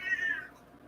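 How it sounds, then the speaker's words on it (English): A house cat gives one short, clear meow, close and fairly loud, then trails off into quiet room tone. "Cat's meowing."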